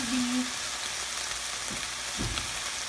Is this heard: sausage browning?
yes